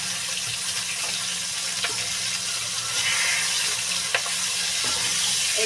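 A fish head and a brinjal frying together in a pan, a continuous close sizzle with a few faint clicks of a spatula, no one speaking.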